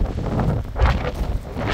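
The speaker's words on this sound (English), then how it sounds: "It's super windy, so I apologize ahead of time." Strong gusts buffet a camera microphone outdoors beside a twin-turbo all-wheel-drive overlanding Sprinter van, producing loud low rumbling thumps that surge and fade in uneven bursts, with no speech.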